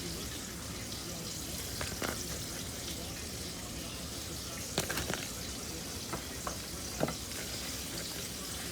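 Chicken sizzles and fries steadily in a pan, with a few sharp clinks of utensils breaking through the crackle.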